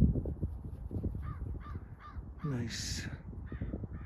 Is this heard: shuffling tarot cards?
no